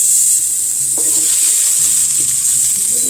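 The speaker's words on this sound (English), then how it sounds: "I'm going to add a little bit, about a tablespoon of olive oil. And we're going to cook up those onions." Half a cup of chopped onions sizzles in about a tablespoon of olive oil for an eggplant pasta, a steady, loud frying hiss with soft stirring clunks and scrapes close by, and no talking.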